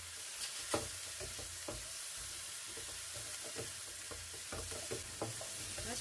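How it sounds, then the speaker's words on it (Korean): Kimchi fried rice with soy sauce stir-fries in a hot pan, with a steady sizzle and frequent scraping, tapping strokes of a spatula throughout, and no voices. "간장도 볶아줘. 같이."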